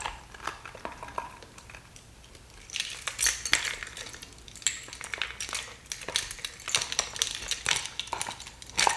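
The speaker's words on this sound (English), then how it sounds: "let me attach the keys" Metal keys and a large fob clink and rattle as they are fitted onto a keychain, a series of small sharp jingles and clicks, close and fairly quiet with no talking.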